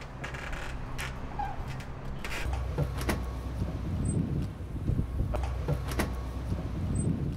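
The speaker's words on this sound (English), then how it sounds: "I'm going to open one door so it can go over that and then back up" A food truck door slides open with a low rumble and scraping thuds, outdoors in cold weather with steady background hum.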